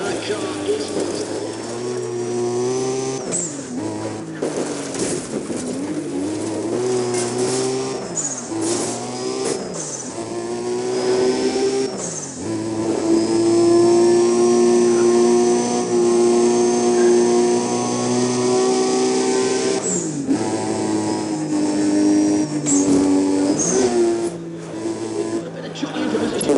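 Racing cars in Need for Speed ProStreet roar at speed, with sustained engine whines rising and falling through gear shifts and loud revving, mixed under a person talking.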